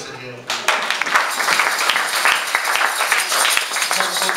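A church congregation applauds, dense and continuous clapping that swells in after a brief quiet start and holds steady to the end.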